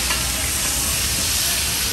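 Eggplant frying in hot oil, a loud, dense, continuous sizzle heard up close with no talk.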